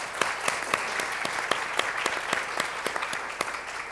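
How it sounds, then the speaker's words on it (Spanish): Applause for a guest introduced at a conference on professional careers and inclusion, a fairly sparse crowd clapping steadily at close range, with distinct sharp individual claps standing out against a dense clapping wash. "para quien pido un aplauso."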